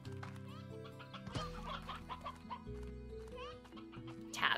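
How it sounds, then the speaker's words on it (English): Chickens cluck and chatter in the Slime Rancher video game, a steady layer of poultry calls with game music and tones running underneath, fairly soft and continuous. "luckily we have some chickens out here"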